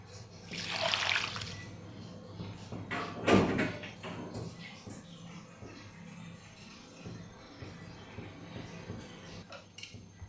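Tap water runs in a home kitchen during washing while radish sambar and cauliflower palya are cooked, with a short splashing burst early on, a louder gush a few seconds later, and then a quieter trickle underneath.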